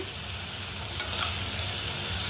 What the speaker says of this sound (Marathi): आता कापण्या तळायला टाकलेल्या आहेत बारीक गॅसवरती कापण्या व्यवस्थित तळून घ्यायच्या आपल्याला